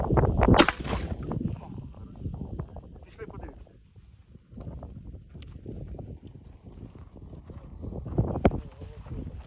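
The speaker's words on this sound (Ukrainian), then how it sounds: "стріляємо." A sharp rifle shot cracks near the start, fired at a body armor plate from 15 meters, followed by a second loud bang toward the end, with people talking in between.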